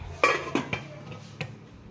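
A rice cooker's inner pot gets its lid set on, giving a few sharp metallic clanks and taps, the loudest first, with a couple of lighter knocks after in a quiet kitchen.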